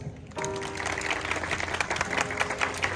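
Wedding guests clap together in a dense burst that starts abruptly after a brief quiet moment, then holds steady and lively with sustained music or tones underneath.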